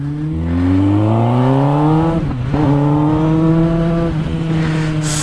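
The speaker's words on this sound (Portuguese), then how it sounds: "Olha o ronco disso, galera." A Kawasaki Ninja ZX10 sport motorcycle with a straight-through exhaust revs loudly and steadily near the listener, its raw engine note climbing, dipping briefly around the middle, then rising and holding again for several seconds.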